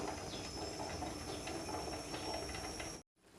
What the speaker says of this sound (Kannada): ಕುಕ್ಕರ್ಗೆ ಮೂರರಿಂದ ನಾಲ್ಕು ಸಿಟಿ ಬರಬೇಕು